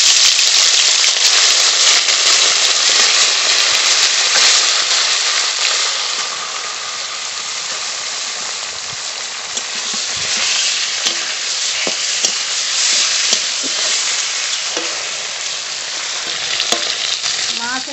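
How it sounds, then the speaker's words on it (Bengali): Bata fish coated in salt and turmeric fry in mustard oil in a kadai, a loud, continuous, close sizzle with occasional stirring clinks throughout. "লবণ হলুদ মাখিয়ে নিয়েছি, এবার ভেজে নেব।"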